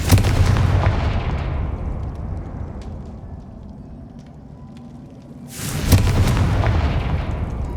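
A Confringo fire spell blasting in the Hogwarts Legacy video game, a loud booming burst that trails off into a long rumbling decay before a second heavy blast near the end.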